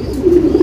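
Blue-eyed male pigeon coos close by, one low, throaty, rolling coo swelling in the middle of a short burst.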